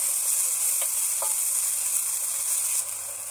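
Chopped tomatoes frying in a hot pan for Kolkata street-style pav bhaji, a steady close hiss and sizzle with a couple of faint clicks, continuous with no voices.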